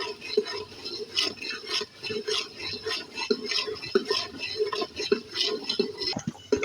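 Onions frying in hot oil in a pan for a home-style pomfret curry, a steady soft sizzle with frequent stirring clicks and scrapes of a spoon against the pan, close and moderately loud, no talking.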